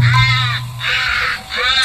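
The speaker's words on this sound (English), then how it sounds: "Crows are a common sight throughout Wales, but these are resourceful crows." Crows near a railway track along the River Lerry by the Dyfi estuary in Wales give three loud, harsh caws close by, one after another.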